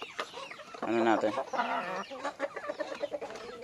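Backyard chickens and chicks cluck close by while being fed, with a louder hen call near the start and soft, scattered clucks throughout; someone talks briefly over them.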